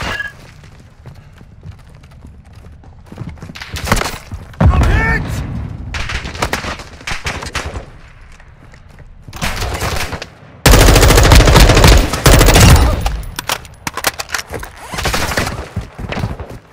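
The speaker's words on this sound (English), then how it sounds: "I'm taking fire!" Call of Duty: Modern Warfare II DMZ gunfire: loud bursts of automatic weapons fire come and go in sustained volleys over a low battlefield rumble, with brief game voices between them.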